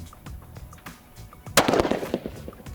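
Rifle shot at a PRS precision shooting match: a loud sharp report partway through with a crackling tail, over background rumble and scattered clicks, no speech.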